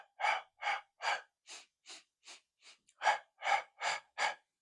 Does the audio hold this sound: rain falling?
no